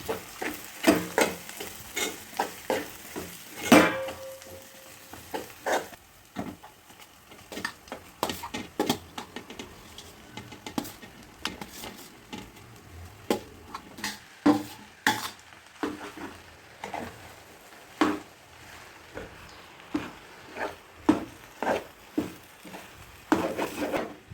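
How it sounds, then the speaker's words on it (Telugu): A spoon stirs minced shark fish into sizzling masala paste with crushed garlic in a pan. Repeated scrapes and knocks of the utensil against the pan ring out close and clear over a steady frying hiss, with no voices. "చేపల మిశ్రమం వేసి రెండు నిమిషాలు బాగా కలిపిన తర్వాత"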